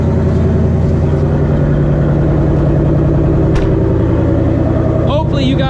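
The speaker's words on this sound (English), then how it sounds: "let this car warm up" A modified 950-horsepower Shelby GT350 idles while warming up, a steady low rumbling drone with a constant throb, loud and close; brief clatter near the end.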